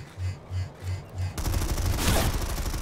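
Gunfire in the shooter Planetside 2 on PS4: a regular string of four muffled distant bursts, then a denser, louder barrage of overlapping shots and rattling fire.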